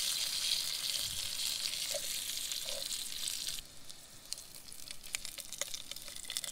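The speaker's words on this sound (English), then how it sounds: "we'll just kind of sear that side" Brook trout sear in butter in a pan with a steady, close sizzling hiss that eases partway through, leaving softer spitting crackles.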